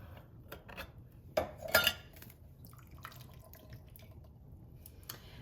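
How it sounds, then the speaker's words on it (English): Canned green beans tipped into a pot of water on a stove: a short splashing pour with metal clinks from the can and pot, then scattered quieter drips, close by with no talking. "I'm gonna add in both cans of our green beans"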